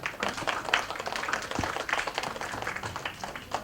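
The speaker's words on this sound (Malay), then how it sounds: "Kita berikan tepukan gemuruh." Audience applause at a kindergarten talent show and graduation day, a steady dense patter of clapping that fills the whole stretch at moderate, fairly distant level.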